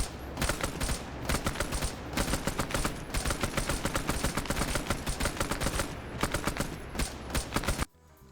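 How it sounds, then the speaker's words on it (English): M60 machine gun suppressing fire in Arma SOG Prairie Fire, a steady stream of loud, close shots in quick succession that ends abruptly near the close. "the M60 is just blindly suppressing here. He's only firing one every half second"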